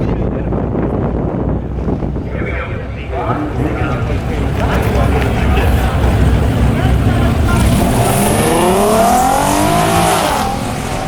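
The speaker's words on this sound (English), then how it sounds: "Hey, he's drag racing." A 2007 Lexus IS 350 accelerates at a drag strip, its engine roaring loud and close, heavily buffeted by wind noise, with a rising whine near the end as it pulls hard.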